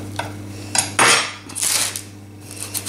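Flat knife scraping and clinking against a work surface while lifting chilled cookie dough for chocolate shortbread, a few short metallic scrapes and taps close up, with no voices.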